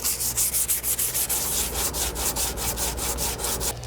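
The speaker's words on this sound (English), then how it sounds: "Now that I got the sanding done" Rhythmic sanding strokes on a wooden Traditions Crockett rifle kit stock, a steady series of raspy back-and-forth rubs, close and fairly loud, with no talking.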